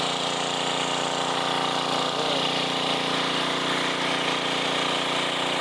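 A 1990s Sears Craftsman generator engine runs steadily at close range, a loud, constant buzzing drone with no pauses.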